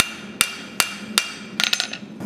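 Blacksmith's hammer strikes a metal diamond shape held off the anvil edge while straightening it, four sharp ringing blows spaced evenly, followed by a quicker cluster of lighter taps and one final hit, close and clear.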